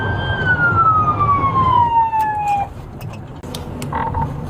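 An ambulance siren wails with a long, slowly falling tone as it sits stuck in traffic, loud and close at first, then it cuts off, leaving faint road noise and brief clicks.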